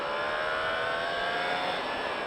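A Yamaha R1 sport motorcycle accelerating on a track, a high, steady engine roar with the pitch rising smoothly throughout.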